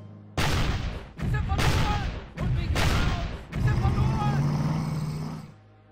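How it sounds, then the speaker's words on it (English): Artillery fire in the Battle Academy war game: a rapid series of heavy, booming blasts, each with a rumbling tail, the last rolling out longer before fading to quiet. "I'm gonna try the artillery first, see if we get lucky."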